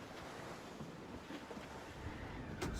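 Fierce wind roars at sea in Assassin's Creed Rogue, with ocean waves surging against a sailing ship during a rough squall. The noise is steady, broadband and fairly faint, and no voices are heard.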